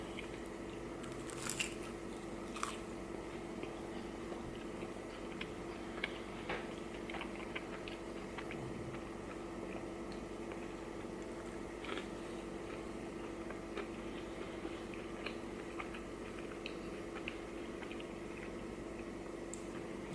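Crunchy mini tacos filled with spicy beef and cheese are chewed close to the mic, giving soft, irregular crunches and wet squishes with brief clicks scattered across a quiet background.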